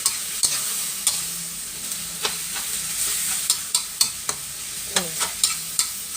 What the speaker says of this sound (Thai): แล้วก็ผัดทุกอย่างให้เข้ากันค่ะ